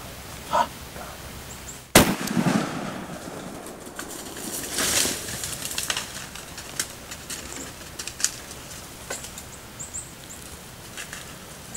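A single sharp muzzleloader gunshot while hunting a buck in Iowa, a loud outdoor crack followed by a short decay, with birds calling and faint rustling around it.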